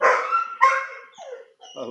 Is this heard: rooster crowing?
no